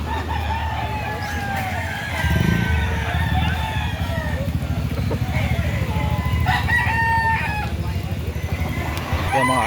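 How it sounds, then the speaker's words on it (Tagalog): Several roosters crow in overlapping calls, loud and nearby, at a chicken market in Lipa City, Batangas, over a busy background with some faint talking. "ito po yung mga manok dito na mga pagpipilian"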